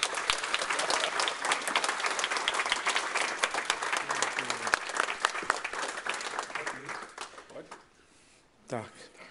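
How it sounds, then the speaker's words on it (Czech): An audience at a Czech book launch applauds the author, a dense burst of clapping that runs strong for several seconds, thins into scattered claps and fades, with a voice speaking near the end. "Zatleskejte autorovi."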